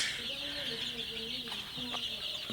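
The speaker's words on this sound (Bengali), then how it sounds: "সকালে মুরগির বাচ্চাকে খাবার এবং পানি দিলাম" Sonali super hybrid chicks, nine days old, cheep in a high, continuous chorus close by during morning feeding, with short clucking notes and a few faint bumps.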